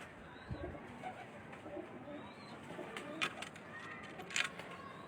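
A pure Baloch female pigeon coos faintly at a breeder's loft, soft low calls with a couple of thin chirps against quiet ambient noise.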